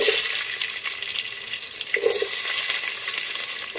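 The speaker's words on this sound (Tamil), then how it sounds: "இப்போ இதில் அந்த வெட்டி வச்சுக்கோல வெங்காயம், அதை போடலாம்." Chopped onions drop into hot oil in a one-pot prawn biryani, giving a bright, steady close sizzle with a brief surge of crackle near the middle, heard alone without speech.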